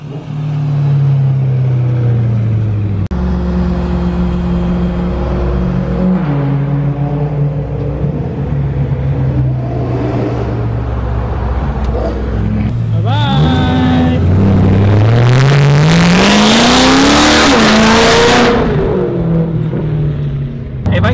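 A BMW M3 engine revs and accelerates hard, its pitch climbing and falling through several sweeps before a loud, rising roar near the end, with voices talking over the engine throughout.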